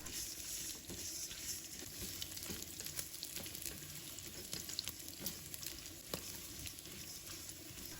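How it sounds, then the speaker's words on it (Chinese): Pork belly sizzles with sugar in a wok, the sugar melting into the meat as it is stir-fried. A soft, continuous frying hiss carries occasional light clicks from stirring, faint and without voices. "把白糖炒至稍微跟这个肉融化在一起"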